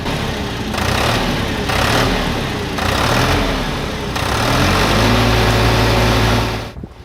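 A three-cylinder, 50-horsepower diesel mini tractor engine runs nearby with a steady chugging idle, its pitch rising and falling in short revs before it cuts off.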